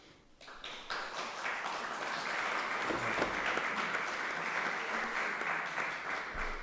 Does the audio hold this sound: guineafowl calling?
no